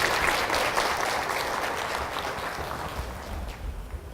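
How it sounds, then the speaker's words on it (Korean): Audience at a lecture event applauding to welcome a guest speaker, with dense sustained clapping from a large crowd that fades gradually toward the end. "귀한 시간을 내어주신 이광재 원장님을 큰 박수로 맞이해 주시기 바랍니다"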